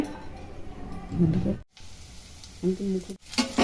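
Chopped garlic and onion hitting hot mustard oil in a pan, giving loud, continuous sizzling with a few brief drops and renewed bursts, and a voice talking over it.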